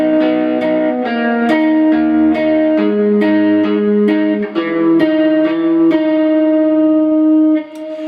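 An effects-laden electric lead guitar plays a melodic turnaround phrase of clear sustained notes that shift from pitch to pitch with light reverb, close and alone, ending on a long held note.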